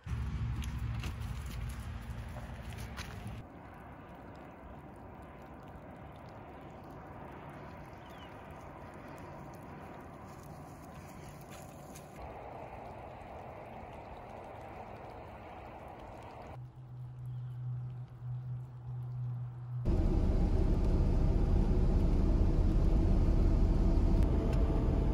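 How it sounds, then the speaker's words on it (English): Industrial trucks and vehicles rumble past near a Canadian boat launch, a steady low roar that swells to a much louder, closer pass near the end, with no talking. "Now there's a bit of industrial traffic"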